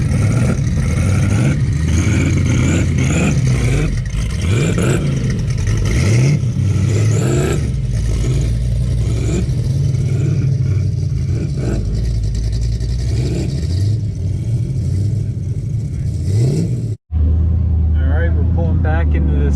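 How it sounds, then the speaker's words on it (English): Two Pantera cars revving their engines in a loud, sustained mid-pitched rumble with rising and falling pulls, close by, with speech over it, cutting off abruptly near the end. "Some dueling Panteras. They both sound good."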